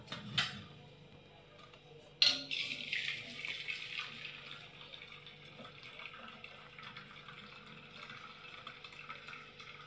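Water is poured off cooked lentils from a hot pressure cooker, splashing steadily into a sink or vessel after a couple of sharp clanks, continuing at a moderate level throughout.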